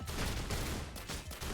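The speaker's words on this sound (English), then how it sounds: "Explosion." Explosions and heavy gunfire-like bursts in the video game Risk of Rain Returns form a dense, loud barrage with a few sharp breaks between the blasts.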